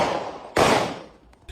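A single sharp gunshot rings out from a luxury car on a public street, a loud broadband crack followed by a fading tail, with no voices.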